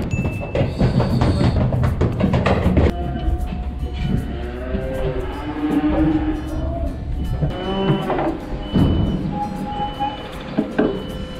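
Fleckvieh cattle moo repeatedly aboard a livestock truck, several loud, drawn-out bellows overlapping one another over a steady background rumble, with no talking.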